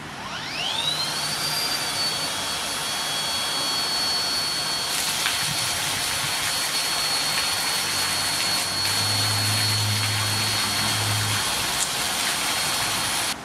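Makita pump driven by a multi-function split-shaft power unit, pushing water through about 23 metres of pipe up a 2–3 metre lift from a pit, runs as a steady high engine whine with a strong tonal drone throughout.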